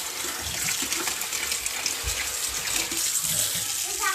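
Hot water runs steadily from a tap, a continuous close rushing splash that holds even throughout with no talking.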